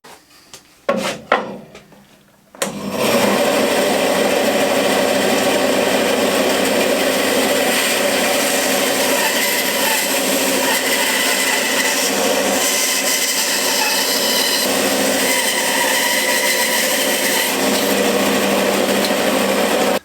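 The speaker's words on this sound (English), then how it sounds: "I'll go onto the bandsaw and trim this round" Oak round being trimmed on a bandsaw while shaping a blank for a turned bowl: a few short knocks and handling noises, then a loud, steady whining cut that runs continuously to the end without talk.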